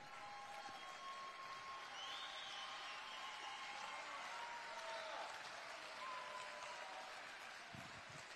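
Audience applause at the opening ceremony of the 2023 IBSA World Games, a steady, fairly faint wash of clapping from a large crowd that runs throughout, with sustained tones faintly underneath.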